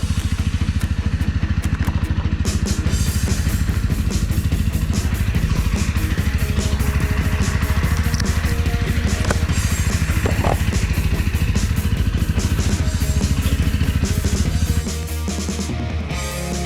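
A Jawa 300 CL motorcycle engine runs close and loud with a fast, steady, crackling putter, then drops off sharply near the end.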